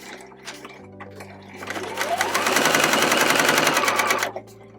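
Sewing machine stitching a quarter-inch patchwork seam for a scrappy zipper pouch, starting slowly, then running in a steady fast rattle that peaks and stops abruptly, close and clear with no talking.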